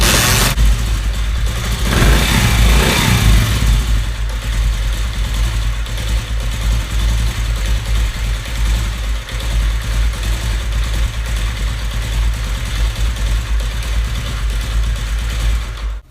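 A Honda CD 70 motorcycle with a carburetor slow-jet problem revs loudly at the start, then settles into a steady, slightly uneven idle that misfires at low speed, heard up close for the rest of the run.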